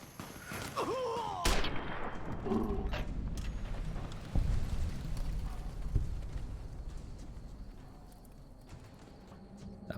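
Gunfire in the video game Fallout New Vegas: a few sharp, loud cracks spaced several seconds apart, set among clattering, hoof-like game ambience.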